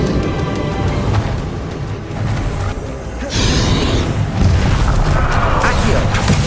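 Bombarda blasting spell in Hogwarts Legacy, a series of loud booming bursts with crashing debris, layered among other spell effects in a busy combat scene.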